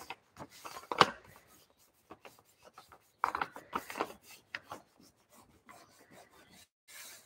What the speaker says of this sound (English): Really rub that all over.